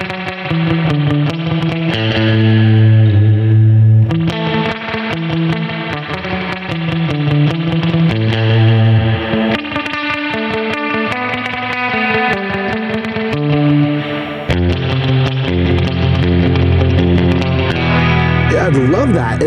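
Electric guitar playing through a real spring reverb in a surf style, a loud, steady melodic line over bass and drums that runs throughout with no talking.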